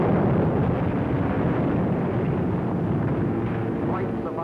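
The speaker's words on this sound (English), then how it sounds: "Unopposed German bombers flew low over the center of Rotterdam and methodically bombed it into a heap of rubble." German bombers pound central Rotterdam in a WWII air raid, heard as a loud, unbroken roar of explosions and engine rumble that stays dense and steady throughout.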